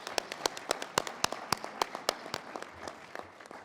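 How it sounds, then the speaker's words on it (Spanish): An audience at a forum on workplace safety and health policy claps in scattered, sharp individual hits that start moderately loud and thin out toward the end, sounding like a small crowd rather than a full roar. "Un aplauso para Bárbara Figueroa."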